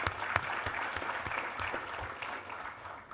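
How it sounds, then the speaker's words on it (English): Audience applause at the ASU Innovation Open 2023 pitch event, a steady, fairly loud wash of many hands clapping throughout that tapers slightly at the end. "One more round of applause."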